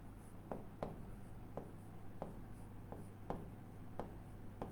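Pen writing a maths solution on paper, a faint quiet scratching with short regular strokes roughly every half second, no speech over it.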